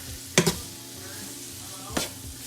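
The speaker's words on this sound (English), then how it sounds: "So I am just going to turn this over in the skillet just a few minutes." Sausage and potatoes sizzle steadily in a hot skillet, with two distinct scraping stirs as the food is turned over against the pan, close and fairly loud.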